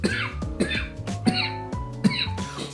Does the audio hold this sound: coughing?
yes